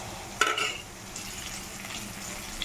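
Tempering spices fry in hot oil for gongura fried rice, giving a soft, steady sizzle with a brief clatter of stirring near the start.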